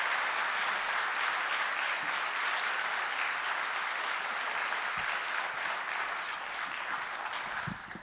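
Audience applause at a school board meeting, a sustained burst of clapping from a room full of people that holds steady and tapers slightly at the end.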